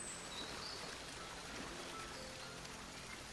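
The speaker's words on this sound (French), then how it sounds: "Tu entends alors le bruit de l'eau de plus en plus intensément." A stream flows in a steady, continuous broadband rush of water, faint and unchanging throughout, with no voices present.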